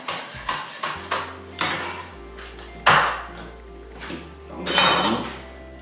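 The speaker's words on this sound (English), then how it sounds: "And with the chili, we'll just roughly chop that." A knife roughly chops chilies on a board in a kitchen cooking challenge, making a string of irregular, sharp clicking knocks at close range, with a few louder strikes among them.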